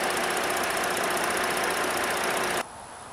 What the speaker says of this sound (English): Underneath the hood, there's a V6